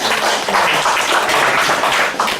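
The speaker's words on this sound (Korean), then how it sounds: "네, 박수해 주시기 바랍니다." A church congregation applauds at an Alpha course completion certificate ceremony, a loud, dense burst of many hands clapping close and continuous, with no talk over it.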